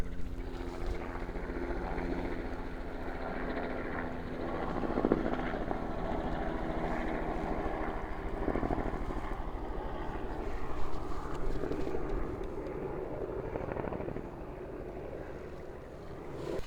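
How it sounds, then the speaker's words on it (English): A helicopter drones low over a homestead garden, its steady rotor thump and engine roar filling the scene throughout with no one speaking. "Helicopter flying over, really low."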